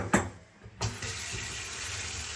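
Water running steadily from a sink faucet after its aerator has been cleaned and refitted, a brief splash first, then a short pause, then a continuous close rushing flow.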